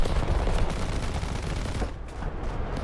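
An American tank's .50 cal machine gun in War Thunder fires sustained, rapid rattling bursts, loud and close, with a short dip near the end.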